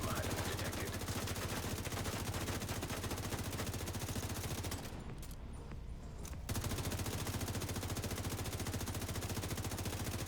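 Sustained rapid gunfire from The Division 2 rattles loud and close almost the whole time, with a brief drop-off near the middle before the dense automatic shooting resumes.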